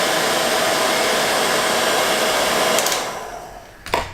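A PW-9000 smart wall-mounted hair dryer blows with a loud, steady airy roar up close, then winds down near the end, followed by a short click-like burst.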